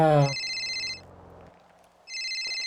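A phone rings in a GTA 5 game scene, two bursts of a bright electronic trill separated by a short gap, clear and close, with a brief low voice at the start.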